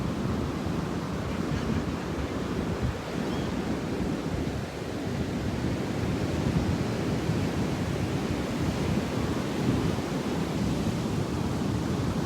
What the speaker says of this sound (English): listen to the waves here together